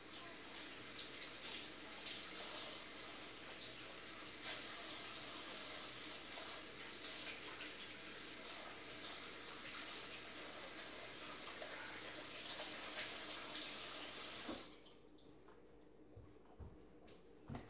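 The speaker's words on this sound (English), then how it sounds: "I'll be right back. I gotta wash my hands." Hands being washed under a running sink tap: a steady, soft stream of water splashing for about fifteen seconds, then the flow cuts off, leaving a few faint knocks and quiet room tone.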